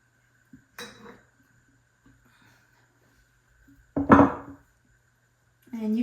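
A glass jar that held horseradish, rosemary, hot peppers, red onions and ginger is emptied and cleaned, with a few separate clinks and knocks of glass against a hard surface and long quiet gaps between them.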